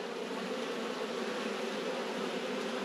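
Honeybees buzzing steadily around an open hive during an inspection, a dense, continuous drone close by and alone, with no speech.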